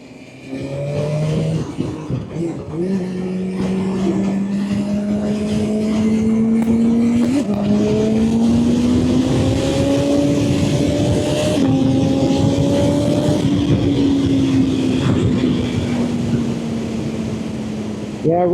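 A sport motorcycle in race mode accelerates hard and steadily, its loud engine note climbing through the gears with brief shifts, close and continuous for the whole stretch.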